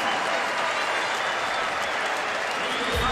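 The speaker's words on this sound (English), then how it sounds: "listen to this crowd with 12:24 to go in the first half" A college basketball crowd of Vanderbilt and USC fans roars in an arena during the first half, a steady, broad wash of cheering and applause at a distance, with a commentator talking over it.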